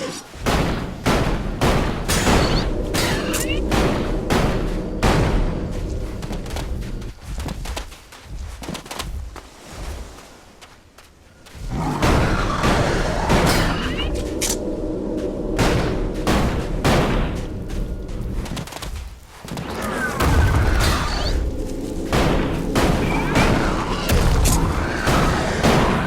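Repeated booming shotgun blasts are fired at a cyclops in the video game ELEX. The shots come in dense, loud bursts with a brief lull midway.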